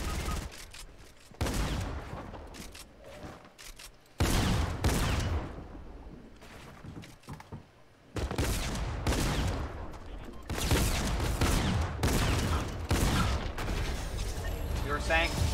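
Bursts of gunfire and explosive blasts in the video game Fortnite, loud and clustered in several volleys, with voices talking over and between them.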